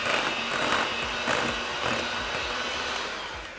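A hand mixer whirs steadily while breaking down a vegan no-bake cheesecake filling, its motor buzz loud and close with small rhythmic changes as the beaters work through the mixture.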